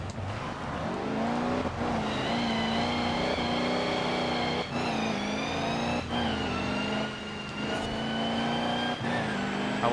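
A racing car engine in Forza Horizon 4 revs hard and steady, with long rising whines through the gears and brief dips at each shift, loud and alone.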